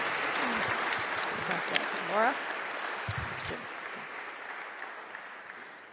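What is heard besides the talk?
audience applause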